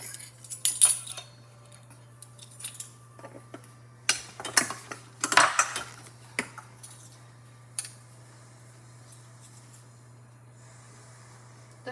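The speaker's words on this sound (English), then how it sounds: "Here's your fork for stirring. Can you hold it while I stir?" A fork clinks and scrapes against a bowl while stirring blueberry muffin batter with cinnamon, in irregular bursts of clatter that fade to quiet near the end, over a steady low hum.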